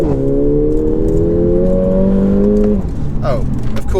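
A Mercedes CLA 45 AMG pulling hard from inside the cabin, engine note climbing steadily for about three seconds before a gear change drops the pitch and it rises again, loud and close with a driver talking over it.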